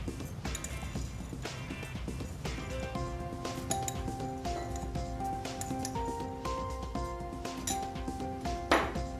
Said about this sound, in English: We'll first start with 3 teaspoons of tea in each glass.